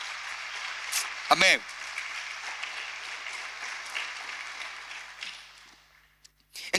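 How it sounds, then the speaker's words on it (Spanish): A church congregation breaks into applause during a sermon, a broad wash of clapping with a voice briefly calling out over it, fading away toward the end. "Si lo crees esto, dar un aplauso al Señor"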